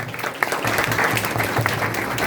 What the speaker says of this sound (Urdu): آئیے خدا کے کلام کے لیے زوردار تالی